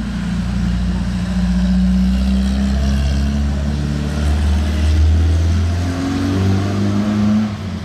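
A loud Porsche 356 engine idles and revs with a deep, throaty rumble, rising and falling steadily, close by.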